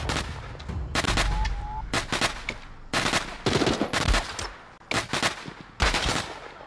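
Gunfire in The Walking Dead: Saints & Sinners VR game, battle royale mode on Memorial Lane, comes as loud repeated bursts of shots, several volleys with short gaps between them.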